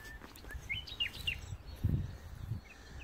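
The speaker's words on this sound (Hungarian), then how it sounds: "Ez Rigó." A blackbird (thrush family) singing, a few short fluting phrases over low outdoor rumble and rustling.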